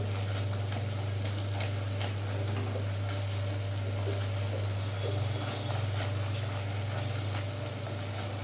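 Tomato masala frying and being stirred in hot oil, a steady close sizzle with scattered crackles and scraping taps, continuous under a low background hum.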